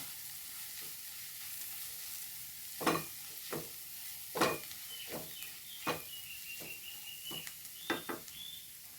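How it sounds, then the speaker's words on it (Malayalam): Fennel powder being stirred into chana masala in a pan, a low soft sizzle punctuated by a series of clear spatula scrapes and taps at irregular intervals, fairly quiet and with no speech. "ഇതിലേക്ക് കുറച്ച് പെരുംജീരകപ്പൊടി ഇടാം കേട്ടോ. ഇളക്കി കൊടുക്കുന്നുണ്ട്."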